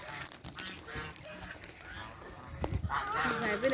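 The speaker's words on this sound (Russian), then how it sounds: "Гуси мои вышли." Domestic geese out in a rural yard in dry autumn weather, honking in scattered bursts that grow busier toward the end, with a voice talking over them.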